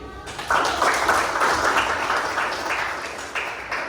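Applause from students in a classroom, a steady burst of many hands clapping that swells after a quiet start and keeps going, fairly close and loud, until the end.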